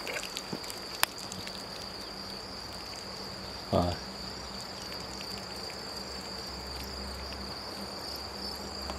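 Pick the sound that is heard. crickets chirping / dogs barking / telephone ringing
crickets chirping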